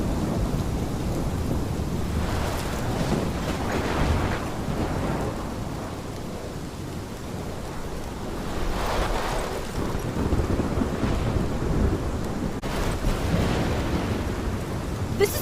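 Thunderstorm in the video game Life is Strange: heavy, steady rain fills the whole stretch while deep thunder rumbles roll in and swell several times, with wind buffeting throughout and no voices.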